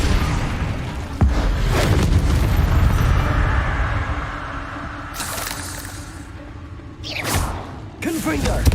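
Confringo blasting spells exploding in Hogwarts Legacy, a rumbling explosive roar with a sharp crack near the start and later whooshing bursts, while a voice speaks underneath.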